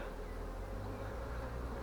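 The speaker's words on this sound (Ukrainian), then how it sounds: "Бджоли агресують де гніздо, то більш агресивні, звісно." Honeybees buzz densely at a full hive during an acacia honey flow, a steady close drone of many wings with no pauses.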